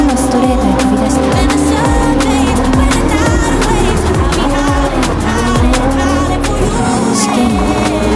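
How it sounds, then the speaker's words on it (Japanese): Nissan GT-R with 665 horsepower accelerating hard onto a straight in Gran Turismo 7, played on a MOZA R5 wheel with PS5: a loud, continuous engine roar with rising and falling gear sweeps, dense and sustained throughout. "GTR は重さを感じさせない加速で次のストレートへ飛び出した"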